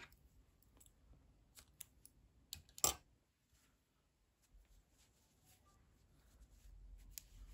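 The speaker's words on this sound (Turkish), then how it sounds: "İpliği kesiyorum." A single sharp snip of scissors cutting knitting yarn, heard close and fairly loud amid quiet handling sounds, with a few soft clicks before and a low rustle afterward.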